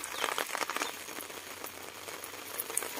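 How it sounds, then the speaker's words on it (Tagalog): Light rain patters softly and steadily outdoors among potted succulents, a faint, even hiss with scattered drops and no talk. "umuulan na"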